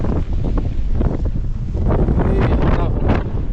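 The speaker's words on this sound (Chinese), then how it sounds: "哇，好大风啊！" Strong wind sweeps across the high-altitude Bandir blue lake on the Pamir Plateau, roaring steadily against the microphone while a voice exclaims over it.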